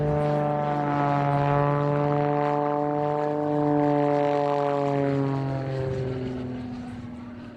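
An aerobatic propeller airplane flying overhead at an air show, its engine drone loud and steady with the pitch sliding downward as it passes, then fading away.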